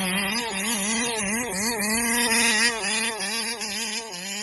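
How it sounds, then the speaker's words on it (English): A Taylor RC 35 V1 reed engine runs rich and screams close by, its high, buzzing whine wavering and fluttering at the top end, with pitch dipping and rising unevenly. "whenever you get that high-end flutter like that"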